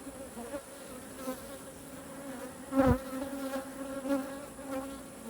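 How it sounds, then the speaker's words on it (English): Honeybees buzz steadily at a feeder of sugar water, a continuous close insect hum with a few louder swells as individual bees move nearby; no voices. "Look at the bees drinking."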